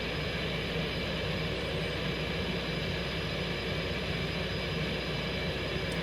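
F-18 jet engine in the X-Plane 11 flight simulator during night pattern practice: a steady, even jet drone and whine that holds at moderate level without change, with no talk.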